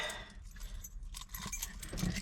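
Metal keys jangle and scrape against the dead ignition switch of a twin turbo Chevelle, a close, continuous rattling lasting a couple of seconds with a slightly heavier clack near the end, no voices.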